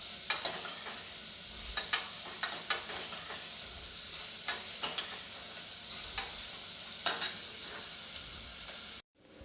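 Onion frying in a pan for a lauki and chana dal sabzi, a steady close sizzle with occasional sharper crackles and spoon stirs, alone with no talk, cutting off abruptly at the end.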